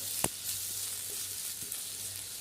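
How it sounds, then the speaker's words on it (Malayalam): Onion and tomato masala for chicken curry sizzling in a pan as it is stirred, a soft steady fry with a few brief scrapes of the spoon, close and quiet. "നന്നായി ഇളക്കി കൊടുക്കുക."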